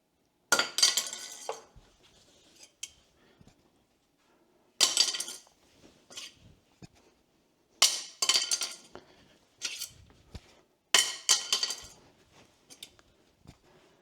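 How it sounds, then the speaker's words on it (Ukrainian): A ceramic kitchen knife dropped several times onto a hard floor, each fall giving a sharp clattering clink followed by smaller bounces, close and loud, with quiet gaps between drops. "Спробуємо кинути на підлогу та подивимось, наскільки ця кераміка крихка та чи витримає вона падіння."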